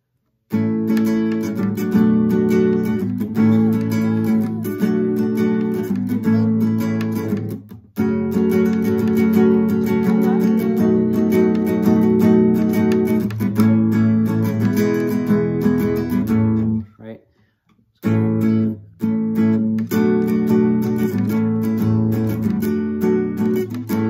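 An acoustic guitar strums the steady rhythmic chord progression of the chorus of a song, loud and close, with a brief pause midway and another near the end before the strumming resumes.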